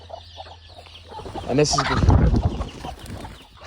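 Free-range chickens and hens clucking in a yard before being let out, a busy flock of overlapping clucks growing louder and closer, with someone speaking briefly over them.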